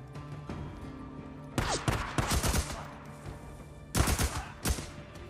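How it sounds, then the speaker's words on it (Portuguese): Gunfire in the video game Days Gone, sharp bursts of rapid shots in two clusters separated by a lull, loud and close over a low background hum, with no talking. "Quem é que tá atirando em mim?"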